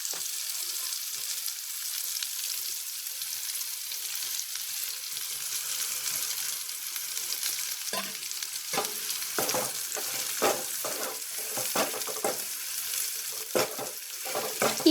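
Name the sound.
frying onion, tomato and spices in oil for bitter gourd palya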